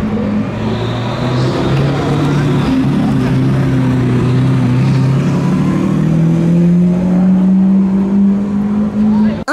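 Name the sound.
Lamborghini Centenario supercar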